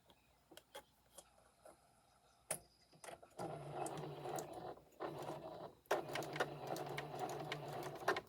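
A sewing machine back stitching a seam on a memory bear, with faint scattered clicks first and then two loud, steady bursts of rapid stitching separated by a brief pause.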